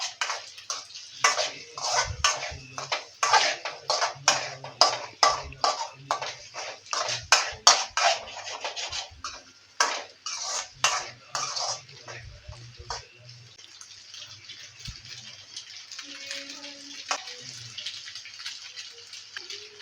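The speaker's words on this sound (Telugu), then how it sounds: "అడుగు అంటకుండా కలుపుకోవాలి" Home-style noodles are stirred in a pan, a run of sharp scraping and clinking strokes against the pan that come in quick bursts, then thin out into softer, sparser contacts.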